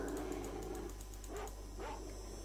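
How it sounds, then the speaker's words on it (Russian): Dogs in OGSE Stalker, a post-apocalyptic shooter game, give a few short whimpering barks and growls at moderate distance over a steady background hum, with no talk. "Его собачки загрызли."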